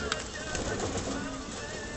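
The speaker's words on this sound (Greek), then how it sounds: "Με έχουνε μαραζώσει αυτά τα περιστέρια." Pigeons coo softly in a loft, a low murmuring call under faint background noise and a brief voice nearby.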